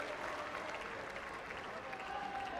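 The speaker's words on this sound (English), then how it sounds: "Big ovation from the crowd." Applause and cheering from the crowd after a men's singles wheelchair tennis semi-final at the London 2012 Paralympics, a steady, somewhat distant wash of clapping lasting the whole moment.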